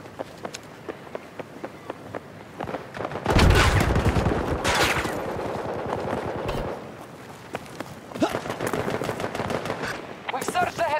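Battlefield 2042 gunfire: sustained automatic bursts and a loud close barrage in the middle, with rapid shots continuing toward the end over battle ambience.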